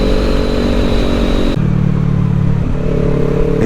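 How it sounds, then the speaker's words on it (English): A motorcycle ridden along US 28 in North Carolina, with a steady loud engine drone and wind rush from the rider's position, the engine note shifting partway through as it changes pace. "It's almost weird riding this thing after riding the Grom for a few weeks without getting on this bike."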